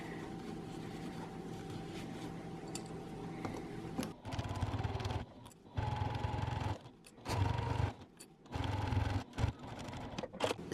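A sewing machine stitches a fabric panel for a scissor case: a steady low motor hum at first, then several short stitching runs of a second or two separated by abrupt stops, close by.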